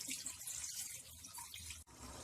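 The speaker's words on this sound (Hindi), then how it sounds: "हम इसमें आधा कप पानी डाल देते हैं।" Half a cup of water splashes into chicken that has been browned over high flame in a pan for chicken do pyaza, a brief, soft, continuous pouring hiss up close.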